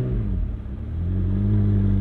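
A McLaren 720S Spider engine pulls hard, a steady loud close rumble rising in pitch as revs climb over two seconds, with no talk.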